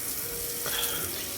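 Water poured out to wet a dusty floor before cleaning inside a house, a close continuous splashing and running stream like a tap, steady for the whole moment with no talking.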